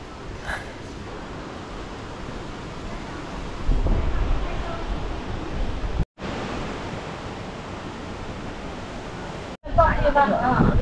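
Wind gusts and rain buffet the microphone at a mountain scenic area in China, a steady broadband roar that swells louder midway, briefly cuts out twice, and has a voice speaking faintly near the end.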